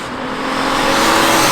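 A 949 bhp R32-turbo-swapped Audi S4 with a six-speed gearbox pulls hard in fourth gear, its engine note building in a loud, rising roar from inside the car with no break.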